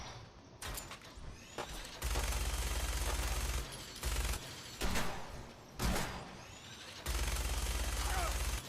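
Minigun fire aimed at a raider in Fallout 4, long sustained buzzing bursts of rapid shots broken by short pauses, loud and close, with clanking mechanical noises between bursts.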